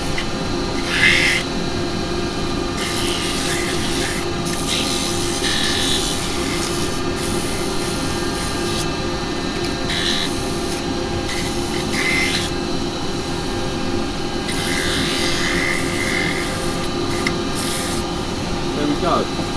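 Sandpaper of a single grit rubbing against an unfinished turned wooden piece spinning on a lathe, giving a steady, close, continuous hiss over the motor's constant hum, with faint talking in the background.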